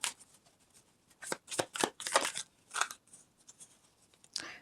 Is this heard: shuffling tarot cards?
yes